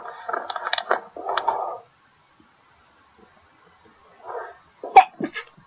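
A single sharp sneeze from a man at a game table, close and abrupt, following a stretch of muffled throat sounds and near silence.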